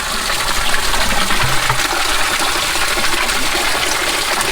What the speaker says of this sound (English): It's a creek that comes under our road.